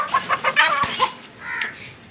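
An injured rooster, hurt in a fight with another, clucks in a quick series of close, distinct calls followed by a softer drawn-out one.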